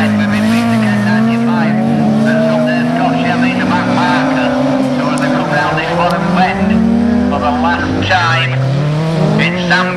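Autograss class 9 race cars at Caenby Corner roar continuously around the track, engines loud and sustained with shifting pitch as they race, while a commentator talks over the whole stretch.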